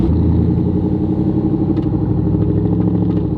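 A cammed, tuned 450 HP lifted Chevy Tahoe idles with a loud, choppy, lumpy rumble, the engine close and steady with an uneven lope throughout.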